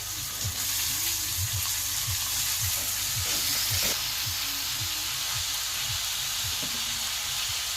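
Brinjal and tomato frying in a pan give a continuous close sizzle and hiss, with a low, regular thumping pulse running underneath and no speech.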